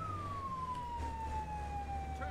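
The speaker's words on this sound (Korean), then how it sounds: "자, 사이렌은 필수고요." In the Firefighting Simulator video game, a fire engine siren wails with a slow, falling tone, steady over low engine rumble, with no talk.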